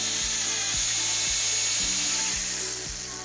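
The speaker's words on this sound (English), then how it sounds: "Using a diamond tip hole saw, score the coating until just reaching the substrate." A diamond-tipped hole saw on a drill scores through a performance coating down to the substrate, giving a steady high whine with low rhythmic thumps repeating about twice a second, close and loud throughout.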